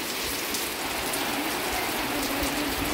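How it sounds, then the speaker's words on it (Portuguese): A heavy November rainstorm pours down in a steady, dense hiss of rain striking surfaces, constant and close throughout with no voices. "continua chovendo ainda"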